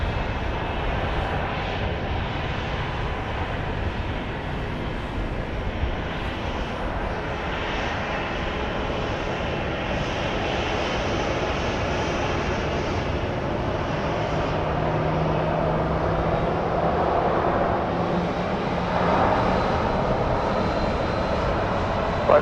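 A Southwest airliner departing Dallas Love Field at night, a steady broad jet engine roar heard from a distance that holds loud and even for the whole stretch, swelling slightly near the end, with no voices over it.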